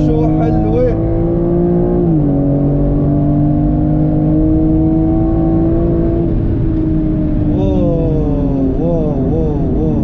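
A 2021 BMW M3/M4 engine accelerates hard on a race track, heard close up. The sustained roar climbs in pitch, drops at a gear change, then revs up again with quick shifts near the end.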